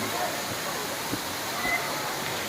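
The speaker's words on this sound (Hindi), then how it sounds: "नीचे पहुंचने पर आपको एक पुल मिलेगा जिसमें इस झरने का पानी गिरता है और बड़े बड़े पत्थरों के बीच से होकर बहता है।" Bee Falls at Pachmarhi, a waterfall pouring onto large rocks in a valley, gives a steady, broad rushing roar that stays even and fairly loud throughout, with no talk.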